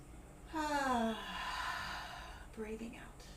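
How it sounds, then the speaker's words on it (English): A slow, deep inhalation taken during a chair yoga session, a soft, close airy breath that rises and fades, with a brief vocal sound near the end. "Breathing in."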